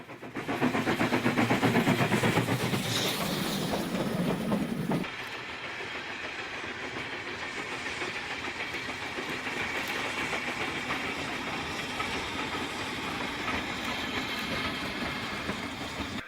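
Steam locomotive 45596 Bahamas rumbles steadily along the Great Central Railway's single track beyond Rothley with a rhythmic clickety-clack, louder at first, then easing to a continuous rolling drone with no talk.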